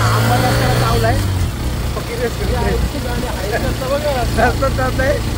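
A vehicle engine labours up a steep ghat road near Khopoli, held in a single gear as a steady low drone, while people talk throughout.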